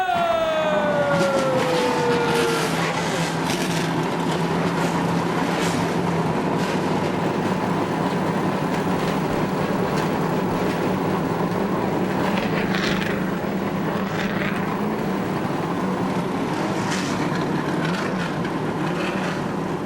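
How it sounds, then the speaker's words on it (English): Loud, steady roar of eighteen NASCAR stock car engines idling and revving together at Daytona International Speedway before the 2001 Budweiser Shootout, a dense continuous rumble with a brief falling whine near the start. "Gentlemen, start your engine!"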